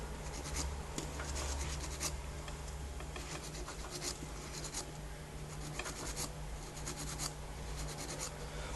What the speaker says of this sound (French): Faut appuyer mais en même temps être très souple sur la lime pour faire partir la démarcation.